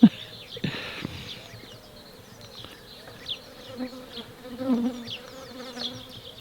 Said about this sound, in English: I have a single bee here that is swarming me.